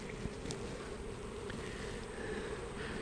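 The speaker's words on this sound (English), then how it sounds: "So you can see all the bees grouping up there trying to get in that entrance." Honeybees crowding the entrance of a beehive, a faint steady buzzing hum with occasional individual bees passing close, quiet and continuous throughout.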